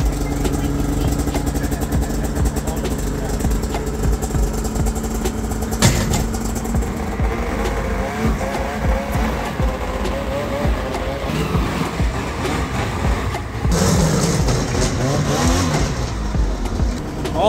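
Two Arctic Cat Catalyst snowmobiles idle with a steady, close engine drone and rev up at moments, the mechanical noise running continuously for the whole stretch.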